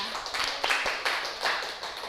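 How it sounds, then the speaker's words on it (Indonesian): A handful of sharp, scattered claps ring out in a classroom for a student teacher, Mbak Aflah, during an Islamic education microteaching session, short and fairly close over faint room noise. "Ya, tepuk tangan untuk Mbak Aflah"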